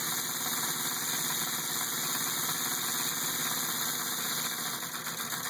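A small model 3-cylinder engine, running on compressed air, chugs steadily and evenly with a fast, regular patter and a constant high whine, close and uninterrupted with no voices.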